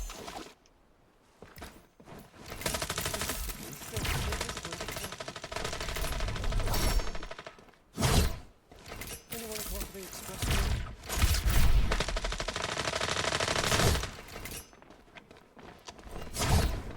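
Gunfire from a FragPunk competitive round rattles in bursts and single shots across the clip, loud and close, mixed with other game effects and someone talking over much of it.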